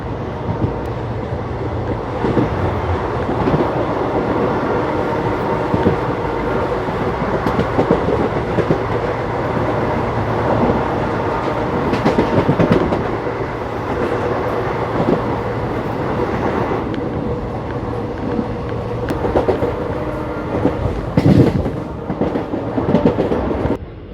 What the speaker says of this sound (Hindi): लो जी दोस्तों सामने खड़ी है अम्बाला श्री गंगानगर एक्सप्रेस।